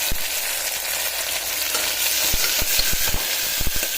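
Chopped bottle gourd sautés in a hot pan with a steady close sizzle, broken by scattered sharp taps and scrapes of a spoon stirring against the metal in the second half.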